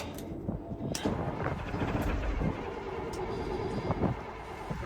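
A 5-ton M1085 military truck's engine cranks over and sputters in uneven, rough bursts, heard fairly faintly and at a distance with some clatter around it.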